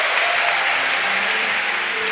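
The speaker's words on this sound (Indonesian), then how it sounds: "Yang percaya berikan tepuk tangan buat Tuhan" Church congregation applauding together in praise, a steady dense wash of many hands clapping throughout with no pause, while faint music or a sustained tone sits underneath.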